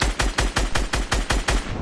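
Rapid automatic gunfire in a video game, about nine sharp bursts in an even rhythm, loud and close with no talk over it.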